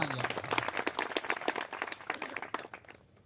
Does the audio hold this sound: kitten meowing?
no